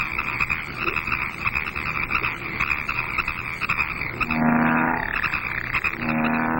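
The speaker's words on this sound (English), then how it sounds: "Bullfrogs are the largest of the American frogs." Bullfrogs at a spring pond give deep, throaty croaks that repeat over a dense chorus of other calling frogs, steady and fairly close throughout.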